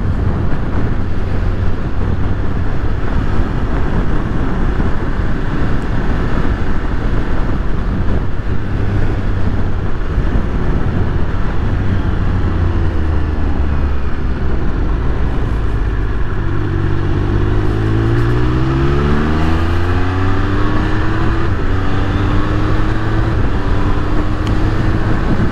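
A Triumph Speed Triple 1200RR motorcycle on the road: a loud, steady engine drone buried in heavy wind rush, with engine pitch sweeping upward over several gear changes late on, no talking.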